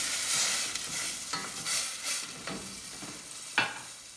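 Wine poured into a hot risotto pan over a fairly high flame, giving a loud hissing sizzle as it evaporates, with bursts of steam and scraping stirring sounds throughout and no talking.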